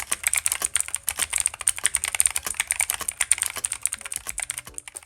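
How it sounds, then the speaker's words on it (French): Rapid, steady clicking of a cheap TEMU budget gaming keyboard with blue switches and no acoustic dampening, typed on close up as a continuous stream of sharp, clicky keystrokes with no talking. "Je peux faire tout ce que je veux, des switches bleus sonneront toujours aussi mal."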